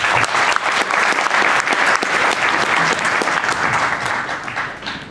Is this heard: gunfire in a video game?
no